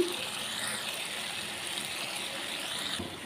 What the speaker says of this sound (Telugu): వాటర్ వేస్తున్నానండి ఈ గ్లాస్తో.